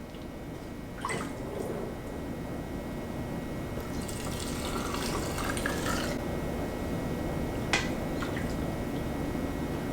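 Homemade pickle brine is poured into jars: a steady liquid pour and trickle runs for several seconds, with a few brief clinks and splashes, close and moderately loud.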